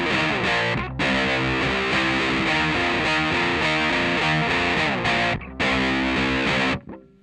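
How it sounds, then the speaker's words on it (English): Distorted electric guitar chugging the rhythm part of a song, a loud, thick driving riff with brief breaks and a cut-off at the end, played alone. "So yeah, just repeat that for the rhythm guitar."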